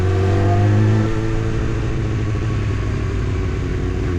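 A rebuilt 1998 Kawasaki ZX9R motorcycle engine revs close by, a quick rise in pitch followed by a rough, throbbing idle that carries on to the end.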